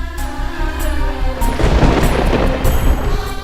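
Thunder from a storm rolls in as a deep, loud rumble, swelling midway and sustained to the end over a broad wash of rain-like noise, with no voices.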